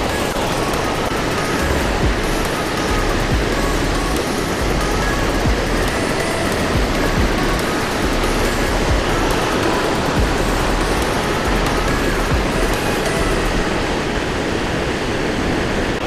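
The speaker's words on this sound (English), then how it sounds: "There's a waterfall right here." Waterfall at Mossy Cave, Bryce Canyon, pouring with a constant full roar of falling water, near and loud for the whole stretch, unbroken and without talking.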